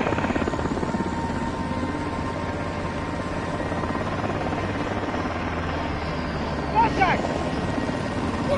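A video game helicopter's rotor drones continuously and loudly, a steady buzzing thrum under game effects, with a brief burst of other sounds near the end.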